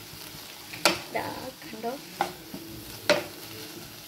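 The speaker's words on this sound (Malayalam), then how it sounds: "നന്നായി ഒന്ന് ഇളക്കി കൊടുക്കുന്നുണ്ട്." Tomatoes being stirred in a pan for paneer butter masala: a few sharp spoon scrapes and clacks against the pan over a soft sizzle, close and fairly quiet, with a brief spoken word.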